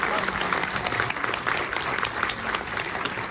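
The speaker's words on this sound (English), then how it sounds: "can we get a round of applause for the" An audience at a film Q&A applauds with dense, sustained clapping filling the room, steady and fairly loud throughout.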